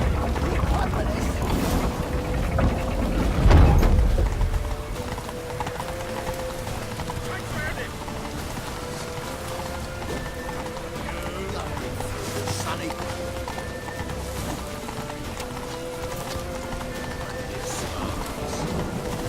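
Horses galloping in The Witcher 3 as riders race toward a temple, a steady clip-clop of hooves running under wind and rushing ambience, with a louder burst early on and voices calling out.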